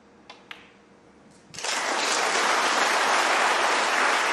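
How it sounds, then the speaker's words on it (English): Applause breaks out in a snooker arena at a championship match, rising suddenly after a few soft sounds into a loud, sustained roar of clapping from the crowd. "A justified round of applause"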